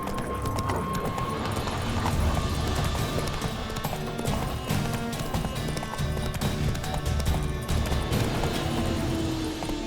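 Horse hooves clip-clop at a gallop in The Witcher 3, a steady dense rhythm close by under game music and ambience, with a brief whinny.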